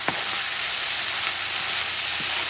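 Longaniza sausage meat frying in a pan, a steady close sizzle running throughout, with a few faint scrapes of stirring and no voices.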